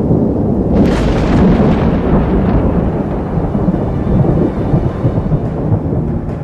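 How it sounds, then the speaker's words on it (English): Thunder rumbles and rolls over the Arlberg mountains during a storm, loud and close, with rain hissing steadily throughout. "the Arlberg is in for a storm."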